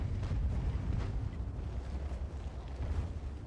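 A tank cannon fires a HEAT shell in World of Tanks, heard as dull, low booming bursts and rumbling under a continuous battle drone, with no voices.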